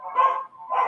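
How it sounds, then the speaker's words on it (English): Dogs bark in the background, two or three short barks standing out clearly against near silence. "I can hear some dogs barking in the background."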